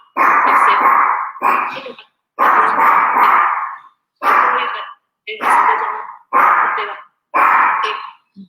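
Dogs barking in repeated loud bursts close by, about seven rough barks separated by short pauses, in an indoor live-broadcast setting.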